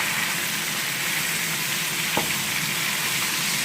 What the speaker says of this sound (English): You can see the fat bubbling out.